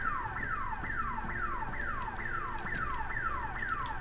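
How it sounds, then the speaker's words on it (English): A store alarm in the video game Redfall wails in a repeating falling sweep, about two cycles per second, steady and prominent with no talk over it. "Is that the store alarm?"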